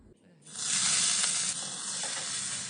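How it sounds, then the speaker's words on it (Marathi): Fenugreek leaves hit a little hot oil in a pan, and a loud, bright sizzle bursts in after a short quiet moment. The hiss then holds steady and close for the rest of the clip. "आता आपण थोड्याशा तेलावर मेथी परतून घेणार आहोत"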